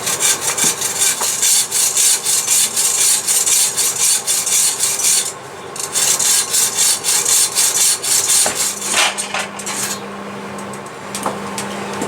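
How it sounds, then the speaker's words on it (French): A hand saw cuts through ash wood in fast, regular rasping strokes, close and loud, with a brief pause midway and a faint steady hum underneath toward the end. "On va couper à la scie."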